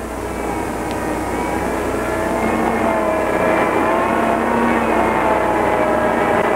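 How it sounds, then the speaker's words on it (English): A steady, continuous engine drone from a vintage Dodge Power Wagon truck pulling plows, low rumble and faint whine, loud and unbroken throughout, with gritty scraping of desert soil on the plow aprons underneath. "listening to the drone of the truck motor and the desert soil scouring on the apron of the plows."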